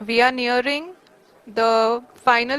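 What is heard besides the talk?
No everyday noises stand out.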